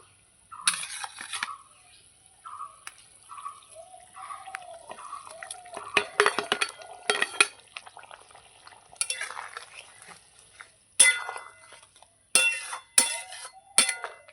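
Eggs dropped one by one into a pot of boiling egg curry, a few soft plops, bubbling and clinks, then a pot lid set on top; close and fairly quiet, no talking.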